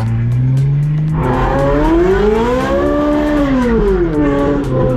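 A Ferrari and an Audi RS4 accelerate hard off the line in a drag race, with a loud, close engine roar that climbs steadily in pitch, dips briefly at a gear change, then rises again with no talk over it.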